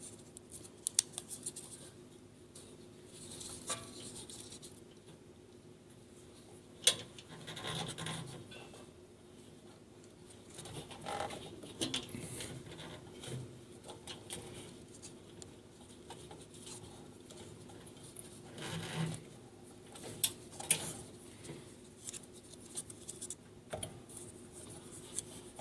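Teflon tape being wrapped around a 40-watt laser tube during installation in a desktop laser, giving quiet, intermittent rubbing and crinkling handling sounds with occasional small clicks, close and faint throughout.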